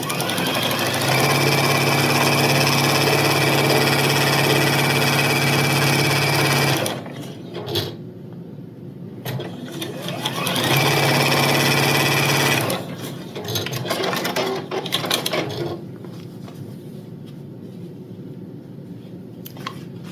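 A domestic sewing machine runs in long steady bursts while joining quilt columns, its fast motor hum loud and close, stopping around the middle and again near the end, with brief rustles and handling noises in the pauses.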